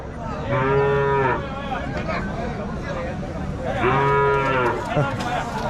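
A calf moos twice at a busy cattle market in Tiruppattur, two long drawn-out calls a few seconds apart, close and loud over a steady background of crowd murmur and voices.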